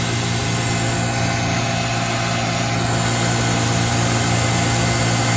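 A small electric grinder and sander powered by an Anker SOLIX F2000 power station run together with a steady, loud, continuous mechanical whir and hum. The noise is constant and close, with no talking.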